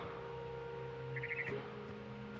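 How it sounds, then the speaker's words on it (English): Birds chirping outside a bedroom window in the video game What Remains of Edith Finch, a faint quick run of small chirps over quiet, hissy game ambience. "Then I heard chirping outside my window."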